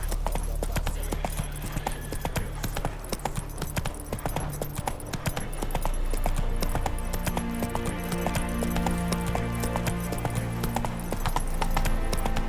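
Horse hooves clip-clop steadily at a trotting rhythm in The Witcher 3, loud and continuous over background music and ambience, with a brief whinny possible.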